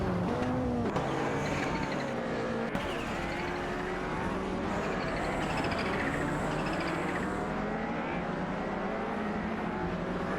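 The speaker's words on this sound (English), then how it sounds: "Greninjeb in an Audi Sport Quattro Sun E2 and Hugroad 3 in a Toyota Celica." Video-game race cars, including an Audi Sport Quattro and a Toyota Celica, roar past in a dense, continuous blend of revving engines with rising and falling pitch, loud and busy throughout.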